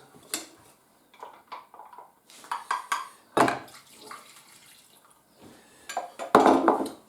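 Yeast-and-water liquid being poured into a sticky malt loaf mixture in a home kitchen, giving several soft splashy pours with clinks of bowl and utensils, close and fairly quiet, with no talking.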